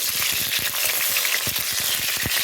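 Garlic, pepper and ginger fry in hot oil for a Jamaican curry beef, giving a steady, loud, close sizzle with scattered crackles and a few soft stirring knocks throughout, with no talking.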